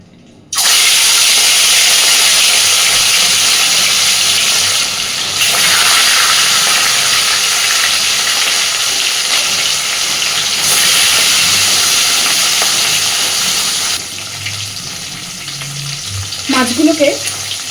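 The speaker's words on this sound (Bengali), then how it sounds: "খুব সুন্দরভাবে তেলটাকে আগে গরম করে লবণ হলুদ মাখানো মাছগুলো ভেজে নেব" Salted, turmeric-rubbed rui fish pieces fry in hot oil in a kadai, giving a loud, steady sizzle that swells and fades slightly, with a softer stretch near the end and brief clatter.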